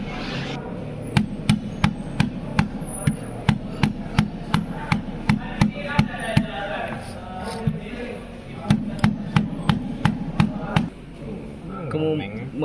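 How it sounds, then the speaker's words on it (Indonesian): A plastic mallet taps a 5th gear onto a manual transaxle shaft with many sharp, evenly spaced knocks, a brief pause midway and then more taps, while faint voices murmur in the background. "pukul dengan palu plastik sampai gigi 5-nya terpasang dengan erat"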